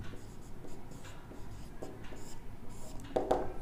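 Chalk or marker scratching across a classroom board in short strokes and taps, close and fairly quiet, with a firmer burst of strokes near the end and no speech over it.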